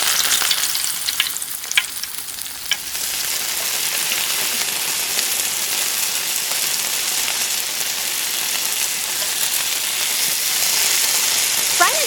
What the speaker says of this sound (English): Drop the pellets into the oil pan one by one.